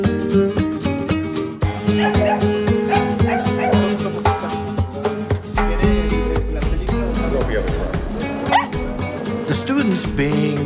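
Dogs in a rural Mexican pueblo bark, yip and whimper repeatedly over dense background music, with a person talking and the animal sounds rising in short bursts throughout.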